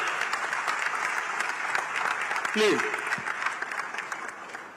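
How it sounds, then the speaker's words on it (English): An audience at a diaspora conference plenary session gives a sustained round of applause for a guest from Kyiv, a dense steady patter of clapping across the hall, with a brief spoken word rising over it midway. "I think we must give a round of applause for him."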